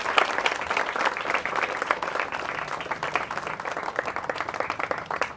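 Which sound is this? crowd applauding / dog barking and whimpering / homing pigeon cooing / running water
crowd applauding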